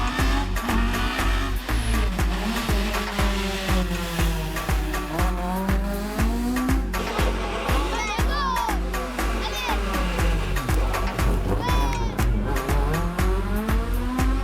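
Rally car at Rallye Madinina 2012 in Martinique, engine roaring loud and close with rapid gear changes and revving, a commentator's voice over music running beneath.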